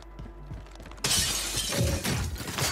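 A window pane shatters in the video game Warzone 3: a sudden loud burst of breaking glass, then tinkling debris and scattered shards over a faint game background.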